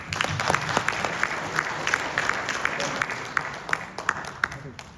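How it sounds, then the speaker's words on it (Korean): A church congregation claps in scattered, uneven applause, with distinct individual claps over a low murmur and some speech. "이분들 박수 한번 해드립니다."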